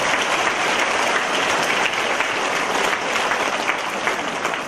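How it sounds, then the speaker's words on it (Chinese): An indoor audience at a lecture applauds, a dense, steady clapping that fills the whole stretch at full strength with no talk. "请鼓掌。"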